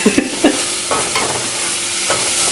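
Ingredients stirred in a hot frying pan for a vegetarian ramen, with crushed red pepper flakes just added: a steady close sizzle under repeated scraping, clacking strokes of a utensil against the pan.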